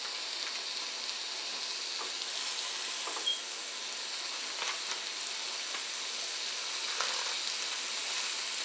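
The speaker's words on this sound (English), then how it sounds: "I'm just going to make him some sausage" Sausage frying in a pan, a quiet steady sizzle and hiss with a few faint pops and clicks throughout, no talking.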